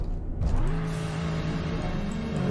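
Car engine in the Roblox roleplay game Greenville, a steady low drone that rises in pitch as the vehicle eases forward into a garage, close and continuous without a break.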